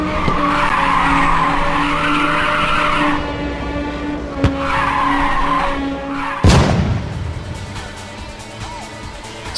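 Tires skid and squeal in the Sega arcade racing game Scud Race, with a loud engine whine, two long skids, then a sharp crash-like impact and a fading engine tone, all close and without talk.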